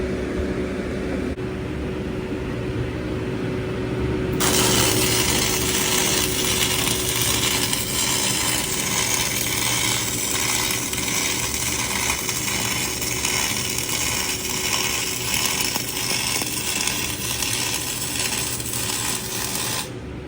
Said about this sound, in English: here's an example of MIG welding with argon.